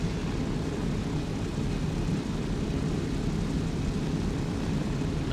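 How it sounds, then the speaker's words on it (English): The cabin of an airplane in flight gives out a steady, loud, broadband roar that stays constant throughout, with no talk over it. "This plane's really loud."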